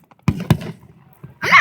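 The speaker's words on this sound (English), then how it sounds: "I'm not even recording the fireworks." Fireworks go off at night with two sharp, close booms in quick succession, a fainter pop after them, then a burst of crackling as the clip ends.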